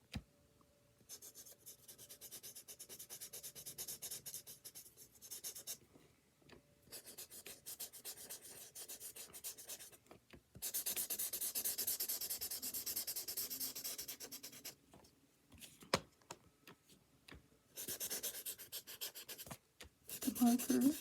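A marker scratches and rubs across paper in several bursts of steady strokes, close and moderately loud, separated by short pauses with a few sharp knocks.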